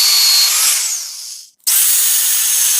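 A power drill bores into a wooden handle with a loud, close whining grind that sags as the bit bites, cuts out briefly, then resumes at full speed.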